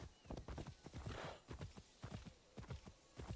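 Horse hooves clip-clop steadily in the video game Immortals Fenyx Rising, a rapid, rhythmic run of close hoofbeats in repeated bursts, with a brief whinny-like sound partway through.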